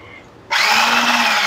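A mixer whirs on abruptly and runs at a steady, loud, close drone, beating chocolate Swiss roll batter with cooking oil and blue essence added, after a brief quiet start.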